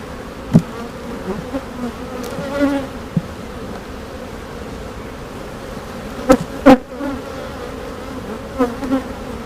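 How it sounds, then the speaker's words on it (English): Steady, dense buzzing of many honeybees close by at an open hive during frame inspection, a continuous hum broken by a few brief knocks and taps. "The bees are always right there."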